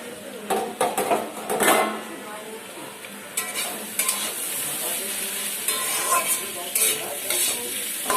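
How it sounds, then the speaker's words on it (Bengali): Potatoes fry in a pan with a continuous sizzle, preceded by a few clattering stirs and utensil knocks against the pan, close and fairly loud. "আলুটা ভাজছি"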